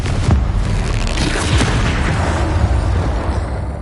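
A fiery blasting spell in the Hogwarts Legacy video game goes off in a heavy booming burst with a crackling, rumbling tail fading over a few seconds, loud and close amid game effects.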